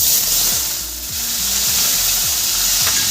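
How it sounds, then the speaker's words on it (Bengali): Paneer frying in white oil in a hot wok for a chana dal navratan: a steady, loud bright sizzle runs throughout, with a few low scraping or knocking sounds at intervals beneath it. "এবার আমি কড়াইয়ের মধ্যে আগে সবার প্রথমে পনিরটা ভেজে নেব"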